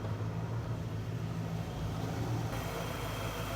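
An old car engine idling with the bonnet open, a steady low rumble heard close by and fairly quiet, running evenly throughout.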